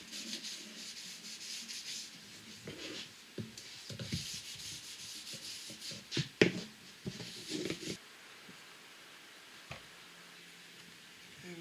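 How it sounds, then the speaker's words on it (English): Glue being rubbed and scraped off a wooden aircraft wing rib and its jig during Corben Cabin Ace wing rib construction, heard as quiet, close rubbing and wiping with scattered small knocks and taps, no talk. "really give the jig and the rib a thorough cleaning. I want to get all of that excess glue off."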